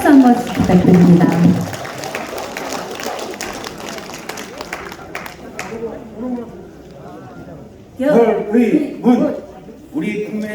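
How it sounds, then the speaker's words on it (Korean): Audience applause at a People Power Party members' rally greets people coming up on stage, a loud burst of clapping at the start that fades, then a voice speaks and the clapping returns in short bursts. "큰 박수 한번 부탁드립니다."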